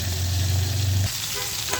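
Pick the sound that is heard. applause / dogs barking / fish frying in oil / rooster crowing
fish frying in oil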